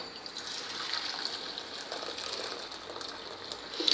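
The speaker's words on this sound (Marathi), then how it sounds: "याचा आधी पाणी काढून घ्यायचं आहे आपल्याला हे बघा मी वेगळं पाणी काढून ठेवते" Water is poured off cooked pav bhaji vegetables, making a faint, steady trickling gush close by for several seconds, with no voices.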